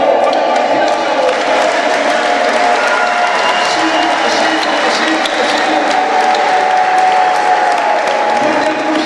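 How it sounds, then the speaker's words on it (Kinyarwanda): A church congregation claps steadily throughout, a dense, loud wash of hands with voices and cheering mixed in. "komeza amashyi n'abagabo"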